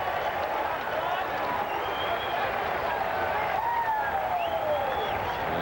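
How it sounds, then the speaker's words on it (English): A baseball crowd at U.S. Cellular Field in Chicago lets out a broad, sustained mock cheer, a steady roar of many voices filling the whole stretch, with a few higher whistles rising above it. "Kind of a mock cheer goes up here at U.S. Cellular Field in Chicago"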